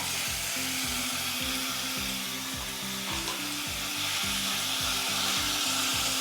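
Semolina kesari with apple and pomegranate frying in a pan, a steady loud sizzle with rhythmic scraping strokes of stirring throughout, no voices.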